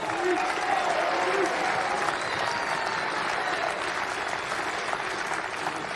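A crowd at the closing ceremony of the Men's Softball World Cup applauds in a dense, steady wash that holds evenly for several seconds, with faint voices mixed in.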